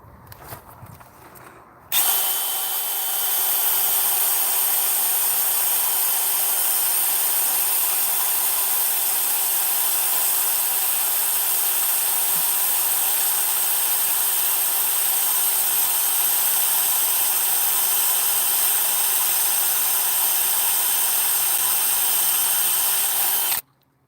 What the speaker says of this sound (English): Let's get the small drill bit in there